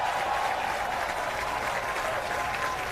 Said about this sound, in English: a rousing round of applause for this centenarian